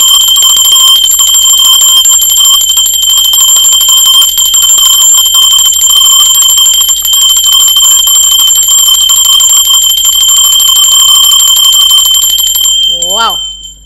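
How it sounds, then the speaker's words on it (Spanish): A handheld bell rings continuously and loudly for about thirteen seconds during a tarot reading, a bright sustained metallic ringing with steady shimmering overtones that ends with a short swooping tone. "Va, va campana, ser divino."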